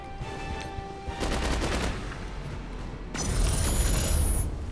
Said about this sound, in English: Again, just shooting everybody.